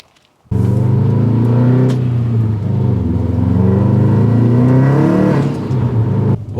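A Subaru STI is driven hard, its engine droning loud and close with the pitch rising and falling as it revs and pulls through gears, steady for several seconds before cutting off.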